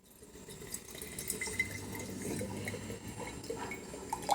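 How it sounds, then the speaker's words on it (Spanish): Water drains from an opened coconut, giving a soft, steady trickling and gurgling pour that continues for several seconds, quiet and close with no talk. "abriendo el coco para sacarle el agua."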